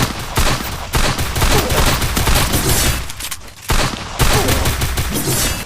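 Gunfire from the Free Fire video game rattles in loud, rapid continuous bursts at close range, with one brief pause before the firing starts again.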